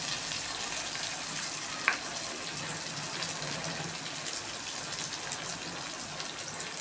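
Onion and tomato sauté in a pan with a soft, even, watery sizzle that runs steadily throughout, broken by one faint clink near the two-second mark.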